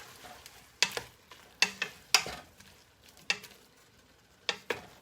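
Squash tomato soup with cilantro cooking in a pot, a handful of sharp spoon clinks and scrapes against the pot over a faint simmering background, fairly quiet and close.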